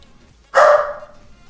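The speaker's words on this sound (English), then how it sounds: "Why are my dogs going mad?" A single loud, close dog bark, sharp and brief, rising out of a quiet indoor background and then fading.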